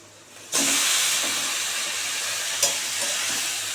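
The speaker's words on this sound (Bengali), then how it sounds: "এবার আমি একদম সিদ্ধ করা কচু শাকটা দিয়ে দিচ্ছি এর মধ্যেই।" Boiled taro greens dropped into a hot pan of spiced oil burst into a loud, steady sizzle close by, with a brief clatter partway through and a hiss that keeps going to the end.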